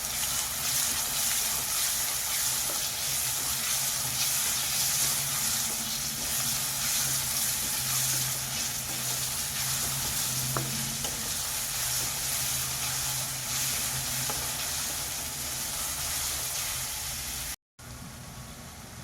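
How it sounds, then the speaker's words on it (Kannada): Onions frying with salt in a pan for a chickpea usli, a soft continuous hiss and sizzle with faint stirring, steady and moderately close, no voices, cutting off briefly near the end. "ಈರುಳ್ಳಿ ಚೆನ್ನಾಗಿ ನನಗೆ ಫ್ರೈ ಆಗಬೇಕು."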